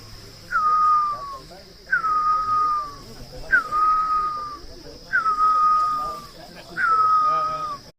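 A man imitates the call of the great barbet, a Corbett landscape forest bird, with five evenly spaced whistled hoots, each a sharp rising note sliding down, repeated alone over a faint steady hum.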